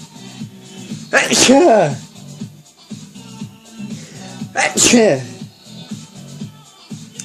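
Two sharp sneezes about three seconds apart, close and loud, with a low steady hum and rustle underneath.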